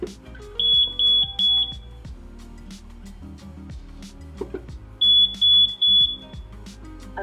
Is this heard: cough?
no